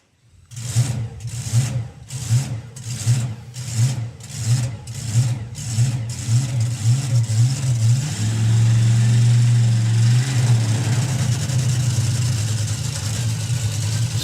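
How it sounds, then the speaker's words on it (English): A nitro-fuelled altered drag car engine loping in rhythmic pulses at first, then switching over to a steadier, louder crackling roar as it runs on nitro, close and continuous with no voices. "So the team switches the car over to the nitro. You can hear it start to crackle."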